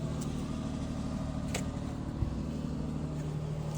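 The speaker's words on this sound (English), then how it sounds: "Gotta let it warm up so it can idle down." Toyota Sienna minivan engine idling steadily while warming up after an ignition coil replacement, a constant low rumble with a faint click midway and a small thump later.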